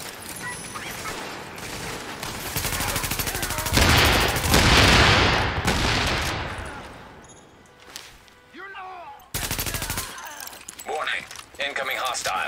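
Gunfire in The Division video game, bursts of shots and a loud sustained volley amid game sound effects, with alert-style electronic chirps and voice prompts breaking in near the end.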